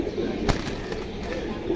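Male pigeons in a cage cooing softly nearby, a brief low murmur with a sharp click partway through.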